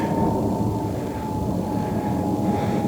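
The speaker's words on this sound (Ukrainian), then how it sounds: "Літають літаки." Airplanes fly overhead, a steady broad engine roar with a faint sustained whine, continuous and moderately distant, with no talk.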